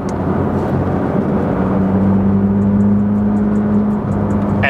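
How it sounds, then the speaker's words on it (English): Loud engine drone from inside a 2019 Porsche 911 GT3 RS, its 4-litre flat-six with open exhaust giving a deep steady rumble that rises in pitch then eases off, with no talking. "you can hear just the beautiful, beautiful sound of that 4-liter flat 6-cylinder engine"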